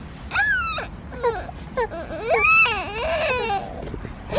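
Babies cry in a rising and falling wail, with several broken, strained cries one after another. The crying is close and fairly loud, with a faint murmur under it.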